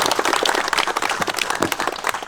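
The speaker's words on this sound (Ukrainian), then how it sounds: "Оплески, щирі оплески." Warm applause from an outdoor crowd at the opening of an inclusive street-workout sports ground in Nadvirna, Ukraine: dense, continuous clapping at an even, fairly loud level throughout the short burst.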